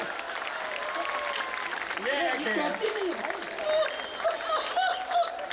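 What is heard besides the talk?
audience applause at poetry gathering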